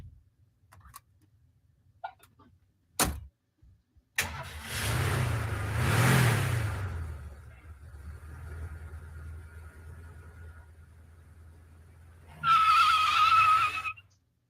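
A car engine starts and the car pulls away, a rising engine roar that fades into a lower rumble, with scattered clicks and thumps before it and a brief louder burst near the end.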